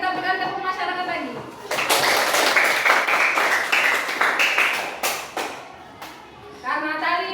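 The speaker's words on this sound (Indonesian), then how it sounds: "Kita berikan tepuk masyarakat lagi" A class of schoolchildren bursts into a loud, rhythmic patterned group clap, the tepuk masyarakat, with sharp synchronized claps in bursts mixed with giggles, while an adult's voice is heard before and after.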